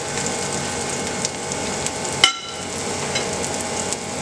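Potato latkes frying in oil in a pan, a steady close sizzle and crackle throughout with a brief sharp clatter midway.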